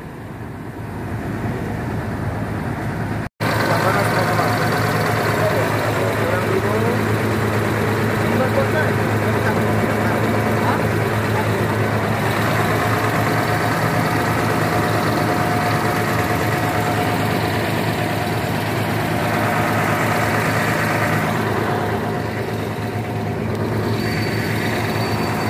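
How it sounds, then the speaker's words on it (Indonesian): Diesel engine of an ALS 270 truck with seeping engine oil idles in a steady, loud low rumble throughout, with a brief cut near the start. "Oke, cek mesin dulu."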